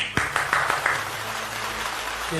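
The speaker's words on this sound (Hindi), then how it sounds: "तो जोरदार तालियों से स्वागत करिए आदरणीय कवि सिद्धनाथ शर्मा" An audience at a Hindi poetry gathering claps to welcome a poet, a short scattered burst of applause that fades quickly into a quiet room with a faint hum.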